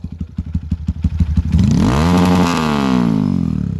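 Dirt bike on a Honda CRF bored-out engine with a GP7 exhaust: loud, close idle pops give way to a hard rev that climbs sharply, holds a raspy high note, then eases off.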